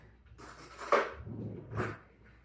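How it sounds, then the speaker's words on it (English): A spoon lifted from a kitchen drawer while cooking potato samosa filling, with a short metallic clink of cutlery and a second softer rattle, close and fairly quiet. "Let me grab a spoon so I can taste."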